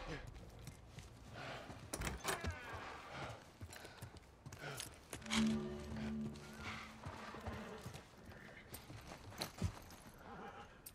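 Horses clip-clop and whinny in The Last of Us Part I, hooves striking steadily with snorts and neighs over an open-ground ambience, while voices talk intermittently between the hoofbeats.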